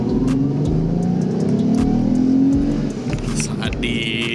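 Mitsubishi FTO GP Version R car accelerating hard, its engine note rising steadily and loud from inside the cabin, with a brief dip near the end as the pace changes; voices can be heard talking over the engine.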